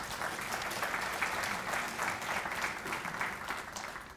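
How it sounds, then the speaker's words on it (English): Audience at an academic ceremony gives a sustained round of applause, steady dense clapping heard from a distance at moderate volume. "And I want all of us to give them a round of applause for their outstanding work."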